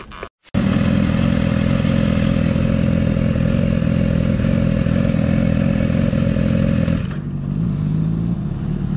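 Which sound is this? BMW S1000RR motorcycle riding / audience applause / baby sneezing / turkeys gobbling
BMW S1000RR motorcycle riding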